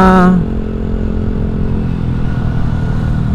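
Suzuki Skywave scooter on the move, a loud, steady engine drone with road and wind rumble throughout, after a brief higher tone at the start.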